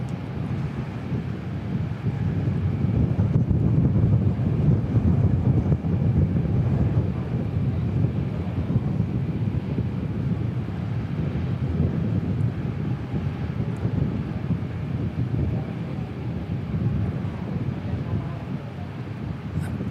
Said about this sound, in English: Wind's just picked up all of a sudden.